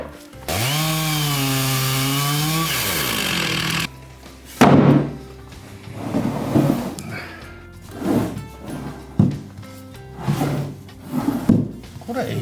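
A chainsaw cuts round slices from a log, a loud, close, high-pitched motor whine held for a few seconds and then cut off, followed by scattered wooden knocks and thuds.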